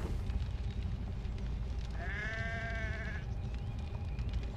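A single clear sheep bleat, about a second long, rises over a steady background hum partway through, from the video game Assassin's Creed 3.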